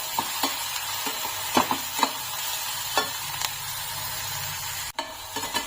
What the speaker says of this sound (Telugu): ఆనియన్స్ ని బాగా వేయించుకోవాలి.